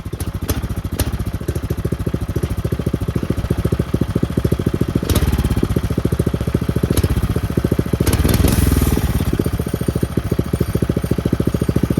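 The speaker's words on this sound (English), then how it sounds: "So it keeps doing this. I'm thinking the idle's too low. It keeps wanting to stall." A small engine on an abandoned go-kart idles low and loud close by, its rapid uneven chugging sagging and stumbling as if about to stall, with brief surges partway through.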